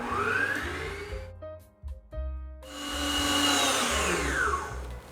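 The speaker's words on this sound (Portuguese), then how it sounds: "3 minutinhos de batedeira, também já falamos sobre isso, que é para que ele desenvolva glúten o suficiente" Electric hand mixer whirring through coconut cake batter, a loud steady motor hum that drops out briefly, restarts, then resumes at full strength, with no speech.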